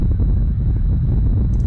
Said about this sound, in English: This is the sound of magma.